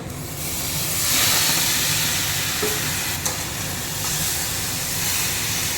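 Marinated mutton in yoghurt dropped into a hot pan with cumin and fried bay leaf, cooked without oil, giving a steady loud hiss and sizzle that holds for several seconds with a small clack partway through.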